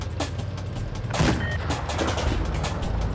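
Nashorn tank destroyer in World of Tanks blind-firing into bushes across a temple map, heard as a dense, steady wash of battle noise with a heavier boom swelling near the middle, fairly loud throughout.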